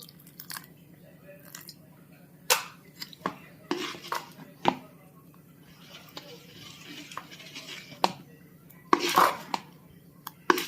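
Dosa batter is stirred with salt and water in a bowl, giving scattered clinks and scraping taps against the vessel at an irregular pace. Someone talks quietly between the sounds.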